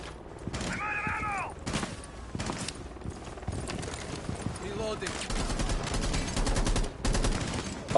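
Bursts of rapid gunfire in a video game, several volleys of sharp shots with short gaps, becoming denser toward the end, mixed with other game noises.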